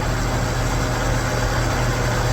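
A big farm tractor's diesel engine idles steadily during fueling, a constant low rumble with broadband hum, close and unchanging, with no talk.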